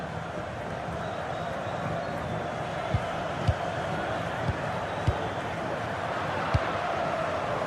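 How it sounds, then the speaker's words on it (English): A stadium crowd in a football video game keeps up a steady, distant roar, with a few dull thuds scattered through it. "The crowd certainly think so. Just listen to that noise."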